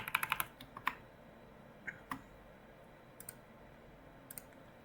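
Numbers tapped out on a computer keyboard while filling a web form input field: a quick burst of close, crisp key clicks at the start, then a few scattered single presses over a quiet room hum.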